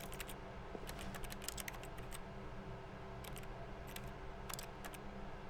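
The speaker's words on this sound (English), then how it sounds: "Whenever I press E, it makes key noises." Key-press typing on a keyboard inside The Stanley Parable game, quiet clusters of quick clicky taps in short bursts with pauses between, over a faint steady hum.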